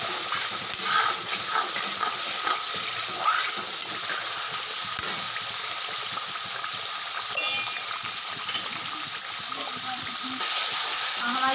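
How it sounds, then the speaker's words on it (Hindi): Onions frying in a pan while stuffed brinjal is being cooked, giving a steady close sizzle and hiss that runs throughout, with light stirring and a few brief clinks. "प्याज भून लेंगे"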